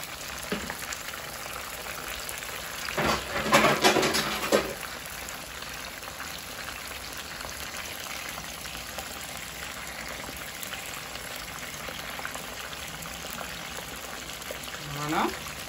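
A pot of cod and vegetable broth bubbles and simmers steadily at moderate volume, with a couple of brief louder splashing bursts partway through and no talking.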